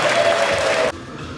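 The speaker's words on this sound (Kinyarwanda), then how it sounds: "umuha amashyi menshi cyane" Applause at a wedding reception in Rwanda, a dense burst of clapping from the guests that cuts off abruptly partway through, leaving quieter room noise.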